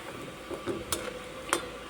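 Gaja pastries frying in hot oil, a steady soft sizzle with a few sharp utensil clicks as they are turned, close and fairly quiet, no voices.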